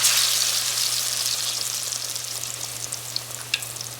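Overripe saba bananas, mashed and frying in hot oil, give a dense, steady sizzle with scattered sharp pops and crackles, close and loud, with no voices.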